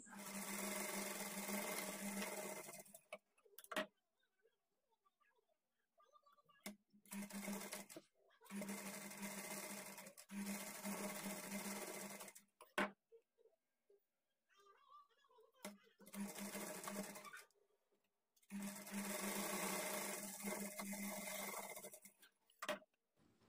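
A sewing machine stitches darts into a blouse in several long runs of steady whirring, separated by short pauses and silent gaps, close and fairly loud.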